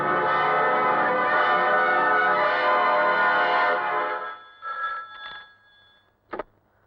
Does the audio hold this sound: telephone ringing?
yes